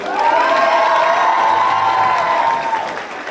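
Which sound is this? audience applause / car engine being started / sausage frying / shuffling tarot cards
audience applause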